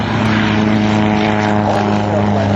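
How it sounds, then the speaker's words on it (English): Steady, loud drone of a propeller aerobatic plane's engine flying low at an air show, a continuous buzzing hum with strong low tones that holds level throughout. "as you saw him do on takeoff in a propeller-driven aircraft"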